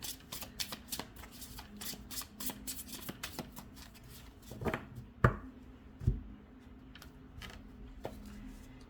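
Tarot cards are shuffled close by, making quick, riffling flutters and soft papery slaps in an uneven rhythm, with a few sharper taps as the deck is squared.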